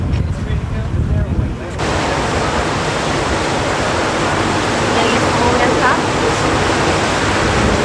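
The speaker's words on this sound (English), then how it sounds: "This magnificent waterfall coming out of this mountain, pouring down and carving out a stretch of board" Waterfall pouring down a mountainside along Lynn Canal, Alaska, a steady broadband roar that rises and fills in after a brief quieter, rumbling opening, continuous and fairly loud with wind buffeting the microphone.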